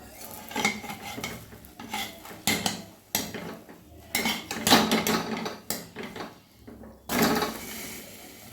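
Clanks and scrapes of a spatula against a pan as a potato-and-egg omelette is turned over, several sharp metallic knocks in uneven bursts, close and moderately loud with no talking.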